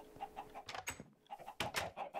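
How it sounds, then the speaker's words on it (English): Chickens cluck in a Minecraft cave-exploring session, a few short game-sound bursts spaced across the moment at moderate level over a steady background. "What about up here? Anything up here? Some chickens."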